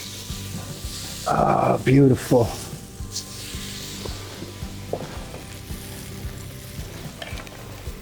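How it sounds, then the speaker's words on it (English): Butter sizzling in a hot pan, a steady soft hiss throughout with louder bursts of stirring or scraping near the start, and a person briefly speaks over it. "I'm sizzling in the back."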